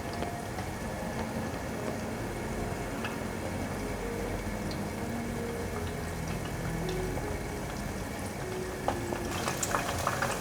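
Battered pieces of oyster mushroom deep-frying in a pot of hot oil, giving a continuous dense bubbling hiss with fine crackle, steady and close, with a few sharper pops near the end.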